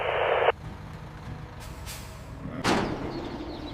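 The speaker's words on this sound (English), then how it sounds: "Massive transport trucks open their steel gates" A large transport truck with steel gates releases a loud burst of air-brake hiss up front, then rumbles under a low idle before a second sharp hissing release near the end, close by with no voices.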